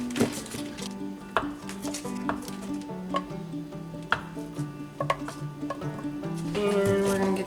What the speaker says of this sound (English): we're gonna chop an onion